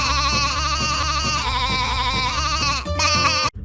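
A sheep bleats in a sustained, loud, pitched-up remix style with dense layered harmonics, continuing almost without a break and cutting off abruptly near the end.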